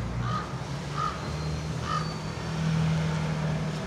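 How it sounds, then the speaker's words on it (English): Crows caw in short repeated bursts, about three calls spaced roughly a second apart, over a steady low rumble of passing road traffic outdoors during a bird fight. "It's a bird fight."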